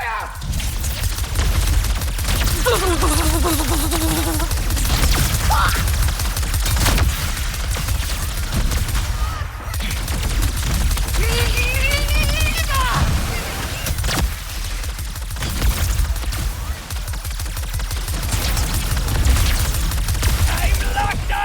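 Gunfire and blasts in Ratchet and Clank: Rift Apart go on for the whole stretch, loud and dense with booms and rapid shots, with character voices talking over the chaos at several points.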